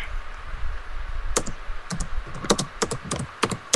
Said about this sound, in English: I hear typing. I also hear typing.